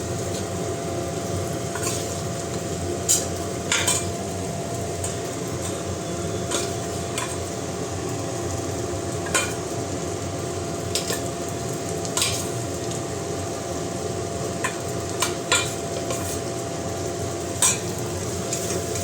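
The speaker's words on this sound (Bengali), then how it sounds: "এবার আমি দিয়ে দেবো এর মধ্যে আলু যে ভেজে রেখেছিলাম সেই আলুগুলো ভাজা দিয়ে দেবো" Fried potatoes stirred into a spice paste in a pan while cooking fish-head muri ghonto, giving a steady close sizzle with scattered light spatula clicks and scrapes throughout.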